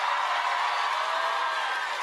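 A live audience applauds at an awards-style event, a steady, dense wash of clapping that holds at an even level throughout the short stretch.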